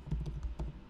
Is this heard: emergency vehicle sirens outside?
no